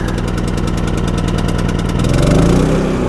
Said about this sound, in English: we turn on the gas, hit the choke, and then we just hit start. And we let it run for just a minute